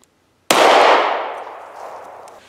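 A single loud, close handgun shot fired with no suppressor, ringing out sharply and then decaying over about two seconds, with no one talking.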